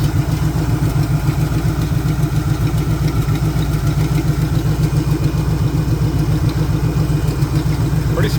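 A Jeep CJ engine, restarted after sitting on and off for about seven years and leaking fuel, runs loud and steady at a close, even, clattering idle throughout.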